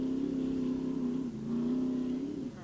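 Frank Scoop Vessels' Chevrolet race truck gets underway in the 1989 Score Parker 400 off-road race, its engine revving in a steady, buzzing roar that dips briefly and climbs again.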